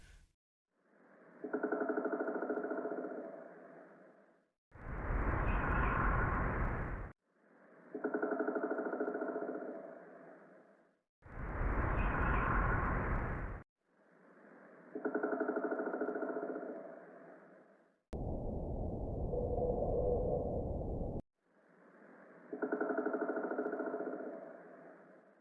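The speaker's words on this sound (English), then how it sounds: "Here's the sound of an actual woodpecker next to the purring." Alternating sounds: bursts of rapid woodpecker drumming on wood set beside low rumbling purr-like sounds, each lasting a few seconds with short gaps, moderately quiet and alone.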